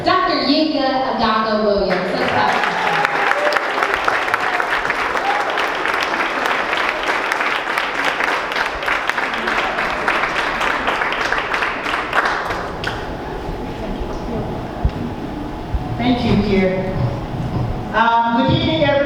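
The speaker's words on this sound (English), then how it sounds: "Let's clap." Audience applause at a dinner fundraiser, a long, dense burst of clapping from a large crowd that swells and holds for several seconds, with a voice speaking near the start and end.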